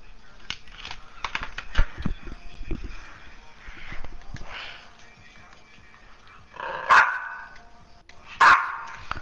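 A dog barks in short sharp bursts, moderately close, with two louder barks near the end; people talk intermittently around the barking.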